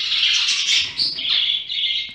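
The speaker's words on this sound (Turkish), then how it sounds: "Hint bülbülleri yabani oluyor biraz" Indian bulbul chicks call in loud, close, continuous high chirps and squeaky trills that barely pause, with no voices over them.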